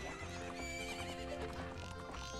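Horse in the Zelda Majora's Mask video game, a clear neigh over rhythmic galloping hoofbeats in a short burst of game audio, with no talk.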